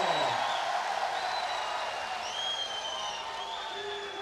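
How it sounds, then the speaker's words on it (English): A stadium crowd at a FIBA 3x3 World Cup gold medal basketball game booing Poland, a sustained, dense roar of voices filling the arena from start to finish, with a commentator talking over it. "The crowd letting Poland hear the boos."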